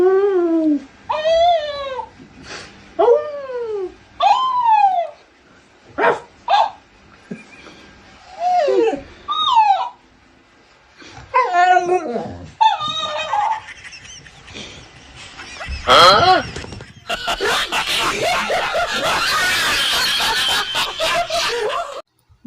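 A dog whimpering and howling in a series of rising, wavering cries with short pauses between them, followed by a burst of noisy rustling toward the end.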